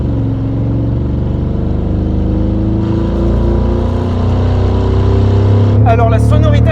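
A car engine running on only one cylinder runs with a rough, uneven low throb, steady and close, then a voice briefly speaks near the end.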